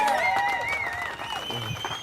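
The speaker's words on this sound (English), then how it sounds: "Please give a warm round of applause" Audience applause welcoming James Allen, the speaker at an Arizona Tea Party event. It is a short, steady wash of clapping at moderate level, with faint tonal sounds running through it and no clear talk.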